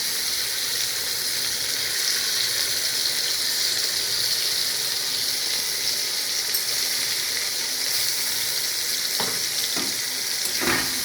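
A paste of tomato, onion, garlic, ginger and black pepper goes into hot oil for a mushroom curry, sizzling loudly and evenly while being stirred, with a few sharp utensil knocks near the end.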